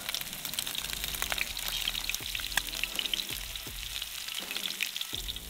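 Coral trout wings and cheeks frying flesh side down in a pan, a steady close sizzle with crackling spatter and occasional soft stirring knocks, no voices.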